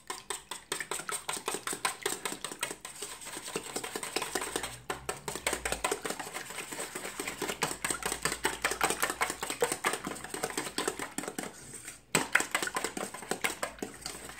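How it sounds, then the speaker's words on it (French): A wire whisk beats quiche filling in a bowl with fast, steady rhythmic tapping and clinking, close and even, pausing briefly once. "Je mélange bien à l'aide de mon fouet."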